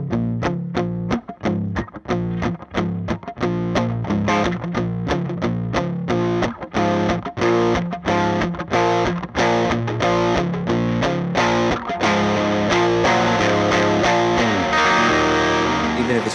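Electric guitar driven through an Ernie Ball overdrive expression pedal into an ambient slap-echo delay, playing a steady run of distorted chords that trail into sustained, echoing swells, loud and alone without talk.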